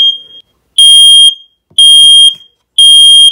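A Nest Protect smoke alarm set off by smoke spray shrills in loud, piercing beeps, three long tones in a regular rhythm with short silent gaps between them.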